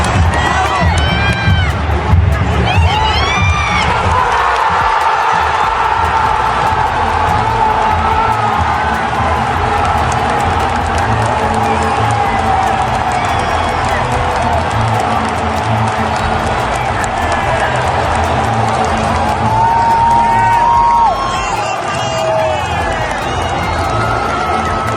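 A stadium crowd roars and cheers for a Chivas goal, a dense sustained wall of shouting and whistles with scattered applause, loud and continuous throughout.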